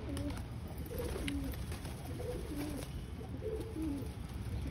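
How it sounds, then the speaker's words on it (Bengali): Pet pigeons coo softly and repeatedly nearby, several rolling coos spaced every second or so over a low background hum. "এই যে পায়রা নিয়ে চলে এসেছি।"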